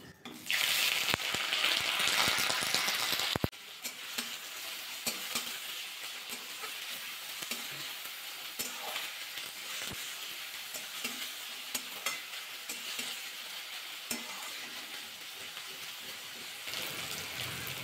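Chopped onions sizzle and fry in hot mustard oil while a spoon stirs them. A bright, loud burst of sizzling opens, then settles into steady crackling with scraping stir strokes throughout, and no voices.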